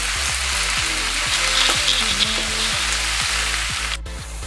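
Finely chopped tomatoes sautéing in a pan for mutton varattiyathu, a loud close sizzle with repeated rhythmic knocks of a stirring spoon against the pan, ending in a brief clatter.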